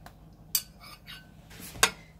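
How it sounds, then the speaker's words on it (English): A spoon scraping and clinking against a pot while stirring low carb BBQ sauce, with two sharp clinks among soft scrapes, close and alone. "And I'll stir that through thoroughly."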